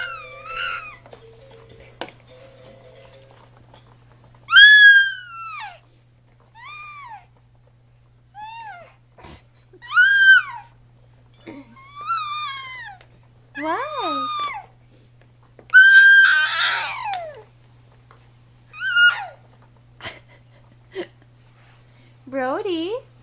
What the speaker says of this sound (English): What are you screaming at?